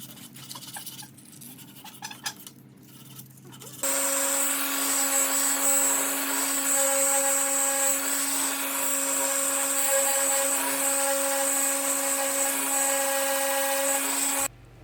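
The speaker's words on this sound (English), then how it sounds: "I did eventually buy a soft pad that attached to my sander." A power sander fitted with a soft pad works over an antique wooden desk about a century old, starting after a few seconds of quieter handling noise and then whining steadily and loudly at a constant pitch until it cuts off near the end.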